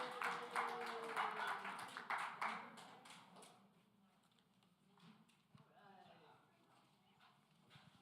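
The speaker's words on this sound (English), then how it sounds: "Clap it up for Miss Dominique." Audience applause for Dominique Sharpton at a National Action Network event, a burst of clapping over the first few seconds that fades into quieter room noise.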